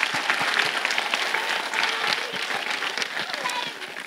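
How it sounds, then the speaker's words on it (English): A school winter concert audience claps in a steady, dense round of applause that fills the hall evenly from start to finish, with no voices over it. "If we could give him a big clap."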